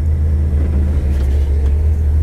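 A 1955 Ford Sunliner convertible's engine rumbles steadily at close range, a low, even drone with slight variation as the transmission shifts, no voices over it.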